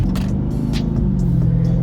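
A car with a 392 engine and stock exhaust idles steadily, giving a loud, continuous low rumble with a smooth hum and no revving.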